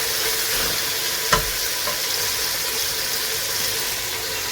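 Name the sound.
chicken frying in a pan as onion is added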